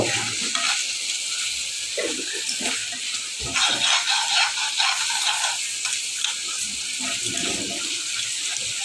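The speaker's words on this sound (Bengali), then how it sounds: "আর শুটকি তরকারি রান্না করতেছি।" Dried fish (shutki) curry cooking in a pan, with steady sizzling and frying, stirring scrapes and some running water throughout, loud and close with no talking.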